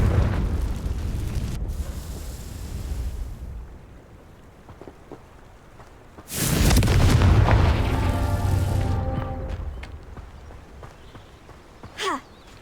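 A Confringo fire-spell explosion in the Hogwarts Legacy video game lands as a sudden loud boom in the middle of the clip, followed by rumbling debris and crackle, with a dull low background beforehand.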